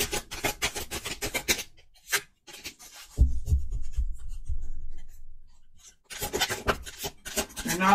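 Tarot cards being shuffled and drawn make dry papery riffles and rubbing in bursts, with a quieter pause in the middle and close, clear handling at both ends.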